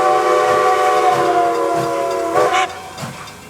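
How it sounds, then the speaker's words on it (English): The AFT 250 whistle aboard Nickel Plate Road steam locomotive 765 sounds a loud, sustained multi-chime blast that slowly tapers off, with faint rail rumble beneath. "to host the 250s whistle aboard the Nickel Plate Road steam locomotive number 765"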